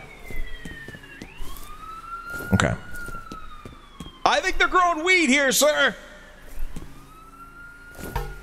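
Siren in the video game F.E.A.R., a rising and falling wail that carries throughout the clip, with a voice talking over it and a burst of bright warbling in the middle.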